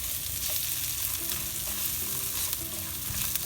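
Dry red chilies fry in hot oil in a pan while cooking saag bhaji, giving a steady close sizzle with stirring scrapes throughout.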